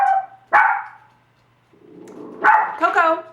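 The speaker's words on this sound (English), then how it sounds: "The puppies have been barking their heads off this morning" A few sharp puppy barks ring out near the microphone, separated by pauses, with a higher yappy bark or whine at the end.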